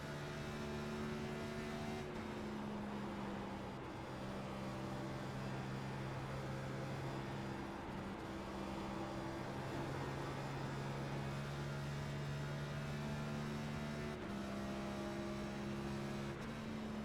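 A NASCAR Next Gen race car in the iRacing sim at Darlington drones steadily under throttle, its engine holding a loud, continuous tone that rises and falls slightly as the gears shift.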